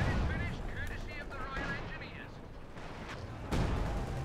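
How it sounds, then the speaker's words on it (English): A ZiS field artillery gun fires in a real-time strategy battle with Raketenwerfer and MG34 infantry, heavy booms and rumbling gunfire mixing with battlefield noise under a commentator's voice, one sharp blast standing out near the end. "Got the field artillery of the Zisgun now."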